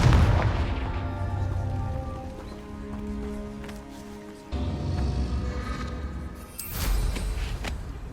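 Confringo blast spell exploding in Hogwarts Legacy, a loud booming burst that decays into a rumbling tail with tonal game music, followed by a second blast and a bright crackling hit near the end.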